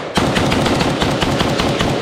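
A Zastava PAP M90-PS AK rifle chambered in 5.56 NATO fires at a shooting range, a loud close burst of rapid shots in a steady rhythm, about a dozen cracks in two seconds.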